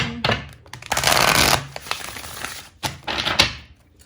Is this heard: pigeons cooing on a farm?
no